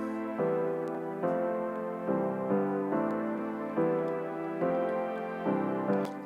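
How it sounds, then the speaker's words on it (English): Arturia piano chords layered with an Analog Dreams synth pad in a house track, a slow repeating progression of soft sustained chords struck about once a second, smooth and even, with no voices. "So what I tend to do is that I also like to layer my pianos with some synth."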